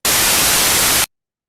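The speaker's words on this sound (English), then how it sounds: "You remember this was the noise." Steady random white noise hisses at full loudness across the whole band for about a second, then cuts off abruptly into silence.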